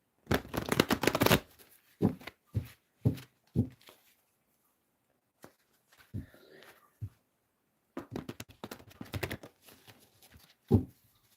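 Tarot cards being drawn and shuffled in repeated quick bursts, a long riffle followed by several short taps and snaps and then another run of shuffling, close and fairly quiet.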